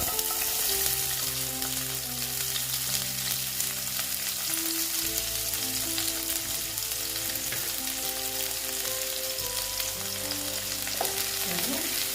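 Onions frying in a pan for a Bengali bata fish curry with potato and eggplant, a dense, even crackling sizzle held close throughout with a faint hum in the background.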